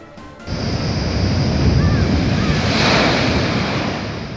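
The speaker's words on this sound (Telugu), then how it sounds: "ఏపీలో ఉప్పాడ దగ్గర సముద్రం అల్లకల్లోలంగా మారింది" Rough surf crashes and roars continuously close by at Uppada, Andhra Pradesh, during Cyclone Remal, a broad rushing wash of waves with wind noise buffeting throughout.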